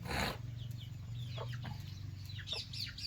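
Country chickens and roosters on a farm, several birds clucking in short, scattered calls at moderate distance over a low steady background hum, with no talking.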